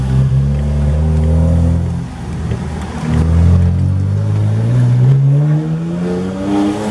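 A tuned 400 whp BMW 335i with bad injectors accelerates hard on a test drive, a loud engine drone that climbs in pitch, drops at a gear change, then climbs again.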